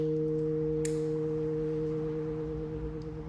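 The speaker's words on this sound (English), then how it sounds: "and then I'm back to the sine wave." A synthesizer oscillator holds a steady sine-wave tone, a pure sustained pitch that runs unbroken and evenly loud throughout, with no talking over it.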